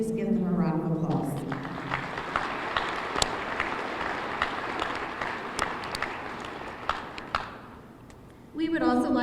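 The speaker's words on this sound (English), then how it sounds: "Please give them a round of applause" An audience at the Jefferson County State of the County Address applauds Dr. Dorian Dow with sustained clapping that fades out near the end, and a speaker talks just before and after it.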